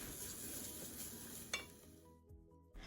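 Rice is stirred and fried in ghee in a pan for korma polao. A soft, steady sizzle runs throughout, broken by a scraping clink of the stirring utensil about halfway through and another near the end, quiet and close.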